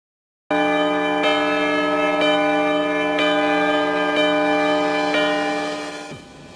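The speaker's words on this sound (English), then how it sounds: "And so the wedding bells rang a sixth time for Henry." Wedding church bells ring loudly and close, six resonant strikes about a second apart, their tones overlapping before fading at the end.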